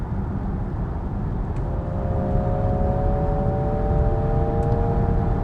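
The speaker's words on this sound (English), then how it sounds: "I got some fake engine sound suddenly." A synthetic engine hum from a Nissan Ariya e-4orce electric car in sport mode, rising tones layered over steady road and cabin noise, moderately loud and continuous.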